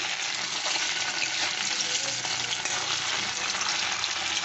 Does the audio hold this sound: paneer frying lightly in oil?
yes